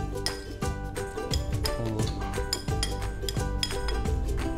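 Lotus stem chaat being stirred in a bowl, with repeated close clinks and scrapes of a spoon against the dish in an irregular rhythm over steady background music.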